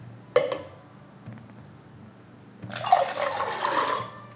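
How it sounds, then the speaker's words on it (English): Water and soaked soya beans are poured into a blender for homemade silken tofu: a brief splash, then a louder, sustained rushing pour of liquid near the end. "Combine the water and the soaked beans in a blender."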